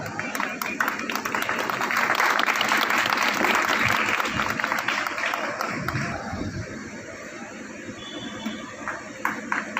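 Loud audience applause at a foundation trust inauguration in Doriganj: a sustained crowd of clapping hands swells and holds, then thins toward the end, with a few scattered claps and faint voices underneath.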